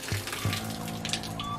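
A shower in a house at night suddenly switches on by itself, releasing a steady, close, broadband hiss of spraying water that runs through the whole moment with a couple of low knocks near the start.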